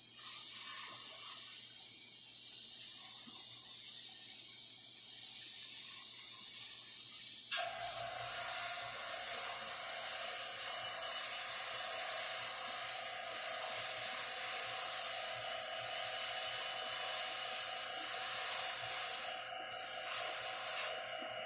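Airbrush spraying high-solids primer at 20 to 30 psi, a steady close hiss that starts abruptly partway through and runs on continuously with slight fluctuations.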